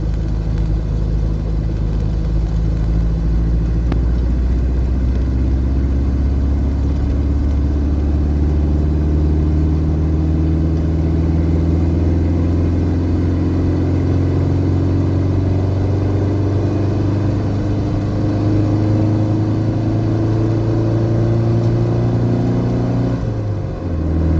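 Car cruising and accelerating on a Brazilian BR highway, a continuous loud engine drone whose pitch climbs steadily through the gears, with road rumble underneath and no talking.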